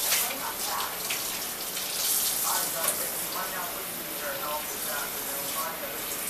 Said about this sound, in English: first I'm gonna rinse the potato off and put some water in this pan.